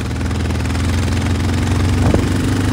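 A motorcycle engine idles on a highway in Nepal, a steady, fairly loud low drone with a slight vibrating pulse and one brief bump near the end, with no voices.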